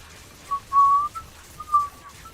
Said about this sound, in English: I suck in air when I whistle